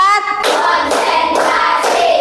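Students in a classroom clap a rhythmic pattern of four distinct claps on a teacher's cue, crisp and close, with a voice heard alongside.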